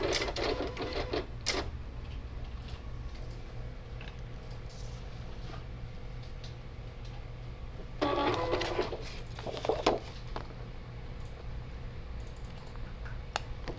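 A vinyl cutting machine running a test cut on Siser glitter heat-transfer vinyl, with short bursts of whirring, buzzing carriage motion separated by a steady low hum, close and fairly quiet, no talking.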